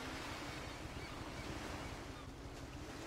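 Ocean waves wash continuously along the shore in the VR off-road driving game Off-Road Paradise, a soft, steady surf hiss with gentle wind, fairly quiet and without talk.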